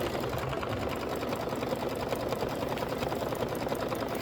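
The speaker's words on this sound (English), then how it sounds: "Then you're going to stitch the hand wheel placement line." Domestic sewing machine, threaded in black, stitching a hand wheel placement line on a Kimberbell Oh Sew Delightful cross-stitch project, running steadily at close range with a fast even motor whir and needle rhythm throughout, alone.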